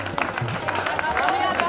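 A crowd claps enthusiastically at a live sai bhajan devotional concert in Delhi, dense applause mixed with cheering and babble, with people talking over it and some music tones underneath.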